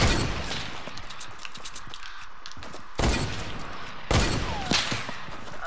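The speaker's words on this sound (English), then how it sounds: "And we're being sniped at from other directions." Sniper gunfire in the Fortnite video game, with two sharp, loud shots cracking out about a second apart over a steady, busy backdrop of game noise.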